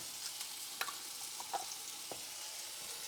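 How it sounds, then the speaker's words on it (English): Garlic from a jar being stirred in a pan on a stove, a steady quiet sizzle broken by a few soft scrapes and clicks of the utensil against the pan. "And then just go ahead and stir that up."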